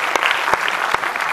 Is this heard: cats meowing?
no